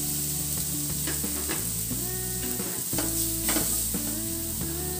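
Tablespoon of garlic paste frying in hot oil with chili paste and curry leaves for samosa filling, loud steady sizzle up close with regular scraping stir strokes against the pan, no voices.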